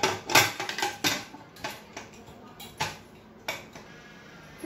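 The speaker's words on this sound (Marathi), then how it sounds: "आता आपण कुकरचं झाकण देखील लावून घेणार आहोत" Pressure cooker lid being fitted on, a series of sharp metallic clanks and clicks, close and irregular, with quiet pauses between them.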